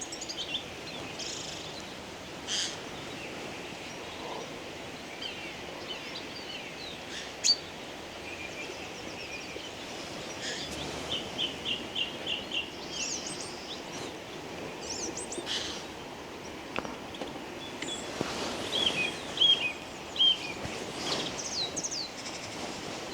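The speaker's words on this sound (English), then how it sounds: "We've got so many birds in front of us, so many small woodland birds." Many small woodland birds chirp and twitter beside a mountain river in Ireland, their calls faint and scattered over a steady outdoor wash, with a few brighter bursts of song toward the end.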